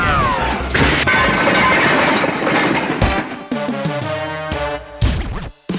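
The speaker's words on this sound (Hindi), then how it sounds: "एक जोरदार धमाके के साथ पुलिस की गाड़ी के पहिए अलग हो जाते हैं" A police car's wheels burst off in a loud explosive crash during a desert rally chase, a heavy smash followed by ringing metallic clangs and jolting impacts that stop and restart.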